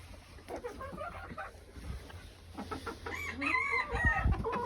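Backyard chickens peck and cluck close by just before a snowstorm, with soft repeated clucks and a brief rising squawk over outdoor background noise.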